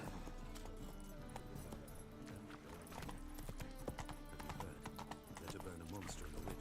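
Horse hooves clip-clopping at a gallop in The Witcher 3, a rhythmic run of hoofbeats with a whinny, heard under game music and someone talking over it.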